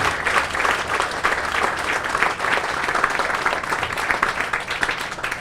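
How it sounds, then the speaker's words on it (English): Loud, sustained round of applause from an outdoor crowd at a new city hall groundbreaking, honoring the mayor, with many hands clapping steadily and evenly throughout, no speech over it. "can we maybe one more round of applause for the legend"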